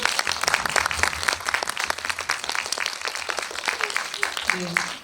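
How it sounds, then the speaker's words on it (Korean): A film-screening audience at a guest-visit event breaks into warm, sustained applause, a thick crackle of many hands at close range lasting about five seconds, with a faint voice surfacing near the end. "저기 생각하시는 분들은 박수로 한번 좀 부탁드립니다"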